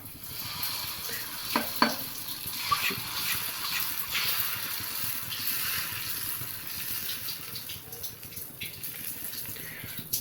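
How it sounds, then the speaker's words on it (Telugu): Dosa batter goes onto a hot griddle and hisses in a steady, moderate sizzle, with occasional scrapes and light clinks over it. "ఒక గంట పిండి తీసుకొని ఇప్పుడు ఆ పెనం మీద వేయాలి"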